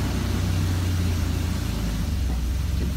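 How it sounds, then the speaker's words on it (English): A 2020 Chevy Express van engine runs at a steady idle with a continuous, fairly loud low rumble and broad hiss throughout, with no voices. "So now we're going to start the vehicle, foot on the brake."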